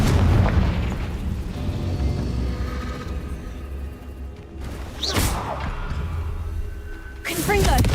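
Confringo spell explosions in Hogwarts Legacy burst with loud booming blasts, one at the start and more near five and seven and a half seconds, against a steady rumbling game background.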